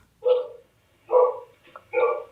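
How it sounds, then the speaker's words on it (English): A pet dog barks three times at close range, each short bark spaced roughly a second apart, loud and clear against a quiet room with no talking. "my dog's being annoying."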